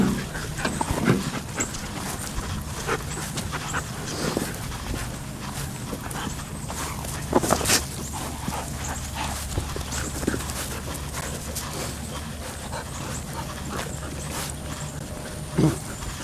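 Several intact Malinois dogs panting steadily and moving about, with quick paw-like taps and scuffles and a couple of sharper knocks, close and continuous with no talk.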